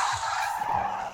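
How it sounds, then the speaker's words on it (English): In CarX Drift Racing, a drifting car's tires screech in a loud, sustained skid with engine noise underneath, lasting about a second. "this is pretty much based on a drifting game"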